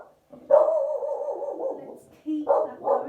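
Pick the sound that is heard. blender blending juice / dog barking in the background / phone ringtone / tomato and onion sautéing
dog barking in the background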